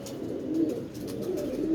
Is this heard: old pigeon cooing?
yes